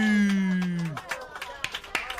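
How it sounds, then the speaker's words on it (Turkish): Scattered claps from a small crowd follow a voice that holds a long tone and then breaks off, the sharp hand claps landing irregularly and fairly close. "Millet de alkışlıyor."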